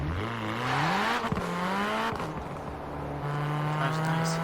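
A car engine in the video game Forza Horizon 4 hums and revs with shifting pitch, gear changes stepping the tone up and down, loud and close throughout.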